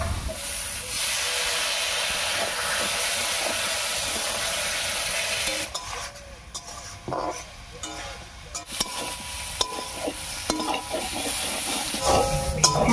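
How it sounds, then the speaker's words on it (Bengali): Spice paste with water frying in a pan for a thin rohu fish curry with potatoes and taro, a loud continuous hiss that later breaks into uneven bubbling and crackling, close by. "এবারে মশলা বাটা জল দিয়ে কষিয়ে নেব।"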